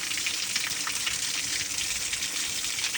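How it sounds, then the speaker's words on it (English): Water gushes steadily from a newly installed frost-free sillcock outdoors. It makes a continuous, fairly loud hissing splash that stays even from start to finish, with no talking. "Water's falling."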